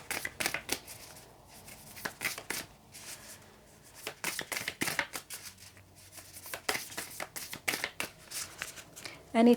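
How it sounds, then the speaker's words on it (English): An oracle card deck is shuffled by hand in repeated quick riffling bursts, close and crisp, with brief pauses between rounds and no talking over it. "So I'm going to get you a card from the Believe in Your Own Magic deck."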